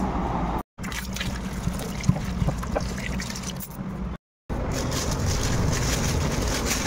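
Tap water runs steadily over fruit being washed in a home kitchen, a continuous close splashing rush broken by two short silent gaps.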